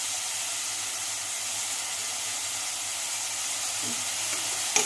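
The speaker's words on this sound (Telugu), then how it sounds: "ఆనియన్స్ బాగా వేగుతాయి" Onions frying steadily in a pan with salt and turmeric, a continuous even sizzle and hiss at close range with no talking.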